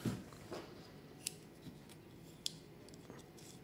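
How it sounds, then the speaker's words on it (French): Small scissors snip excess fishing line while a float-fishing rig is tied, giving a few faint, sharp clicks spread across a quiet background. "On coupe bien sûr l'excédent de fil."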